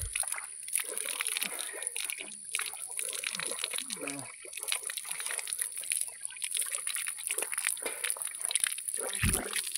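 Drinking water trickles and sloshes at a hillside stop during a trip, an uneven splashing stream close by with scattered clatters, while people talk intermittently over it.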